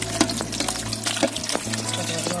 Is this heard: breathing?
no